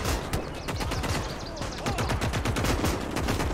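Suppressive gunfire in the Talvisota DLC of a World War II strategy video game, dense rapid machine-gun bursts and overlapping rifle shots sounding continuously and loudly without pause.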